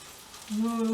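Bananas frying in butter in a pan: a steady sizzling hiss that grows louder partway through, joined by a low steady hum.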